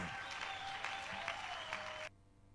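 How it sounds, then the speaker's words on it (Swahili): A church congregation claps loudly and continuously for about two seconds before the applause cuts off abruptly into near silence. "Ongeza tena makofi mengi."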